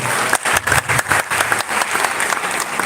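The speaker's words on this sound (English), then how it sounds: "we are going to give a round of applause" A crowd at a gathering honoring a traditional ruler breaks into applause, with loud, close clapping that pulses in uneven bursts for a few seconds.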